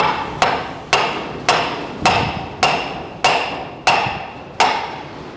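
Hammer smacking hard in a workshop, eight sharp evenly spaced blows about every two-thirds of a second, loud and close with ringing decay after each strike and no talking over them.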